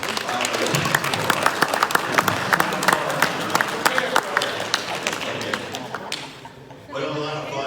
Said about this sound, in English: take some more applause of what you went through.